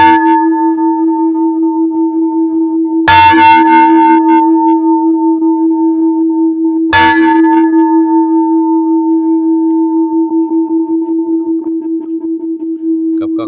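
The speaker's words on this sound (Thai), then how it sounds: "เดี๋ยวลั่นของระฆังสัก3 ครั้ง" A large temple bell at a Thai Buddhist temple is struck twice, each deep ringing strike followed by a long sustained hum that lingers and slowly fades.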